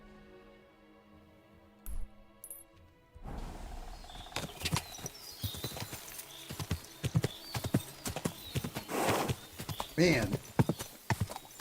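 Horse hooves clip-clop steadily in a video game set in a camp in medieval Kuttenberg, with a whinny rising partway through; someone talks over the hoofbeats.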